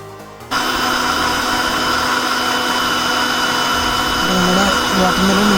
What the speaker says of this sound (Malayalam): ഒന്നുകൂടെ അടിച്ചെടുക്കാം.